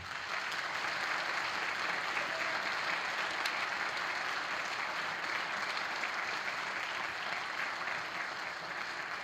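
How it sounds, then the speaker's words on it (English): Sustained audience applause at a spring high school band concert, dense steady clapping from a large crowd filling the whole stretch without a break, no talking over it. "Please give these fine musicians a round of applause."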